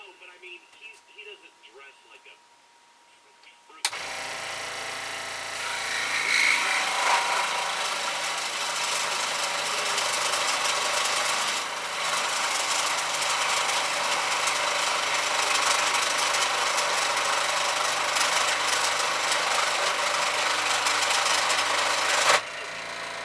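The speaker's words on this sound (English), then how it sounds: "we'll take our sander and I'm going to sand this part down in here." A power sander works a carved wooden ventriloquist dummy part. A brief voice comes first, then the tool starts abruptly and runs as a loud, steady, rough whir for nearly twenty seconds before cutting off.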